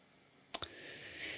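A couple of sharp clicks from keys pressed on a computer keyboard while a password is entered, the second click lighter, followed by a faint steady hiss.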